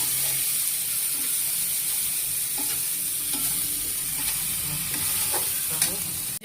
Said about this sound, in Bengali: এবার মশলাটা আমি করছি, ভাজা করি।